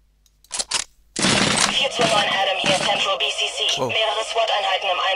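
Gunfire in the tactical police shooter SWAT 4 during a co-op hostage mission, with two short bursts followed by a dense, sustained stretch of loud shots and clatter.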